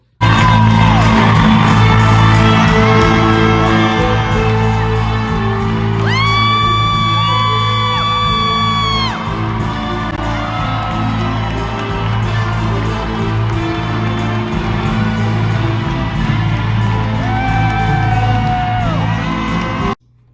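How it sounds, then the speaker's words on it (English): A large crowd cheers loudly for David Goggins, with whoops, shouts and yells rising over a continuous roar for about twenty seconds. Sharp whistles cut through the noise now and then. "Like literally, listen to the crowd."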